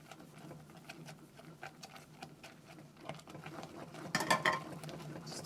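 Quick stirring of flour into a pot of okra water for tuozaafi, with soft repeated scraping and clinking of a utensil against the pot, building to a louder, busier burst of stirring near the end.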